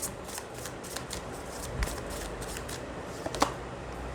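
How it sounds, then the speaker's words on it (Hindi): Tarot cards shuffled and drawn by hand in a steady run of soft riffling flicks and slides, close and fairly quiet, with a few sharper snaps as cards are pulled. "तो चलिए कुछ और कार्ड्स निकालते हैं"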